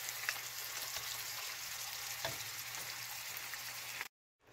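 A pan full of cleaned, cut baby octopus sizzles and fries close up, giving a steady, even crackle with small pops throughout before cutting to silence at the end.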